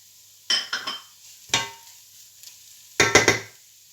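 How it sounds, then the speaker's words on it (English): Garlic and ginger hit a pan of browned onions, giving short bursts of sizzling and scraping with spoon-on-pan clinks, about four close separate clusters between near-silent pauses. "We'll add our garlic into that and our ginger"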